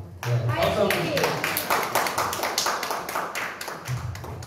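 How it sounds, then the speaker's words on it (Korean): Audience at a sustainability conference in Gimhae claps, a scattered, moderately loud patter of hands that thins out gradually, with a voice speaking over it at the start. "박수 한번 주세요"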